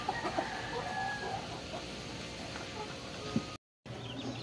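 Chickens cluck softly in a farmyard, scattered clucks and murmurs from several birds close by, with a brief dropout near the end.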